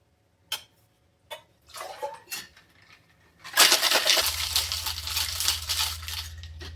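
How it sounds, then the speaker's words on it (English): A cocktail shaker holding ice and triple sec or orange liqueur gives a few separate clinks and rattles, then breaks into loud, continuous rhythmic shaking close by. "And then we shake that to chill."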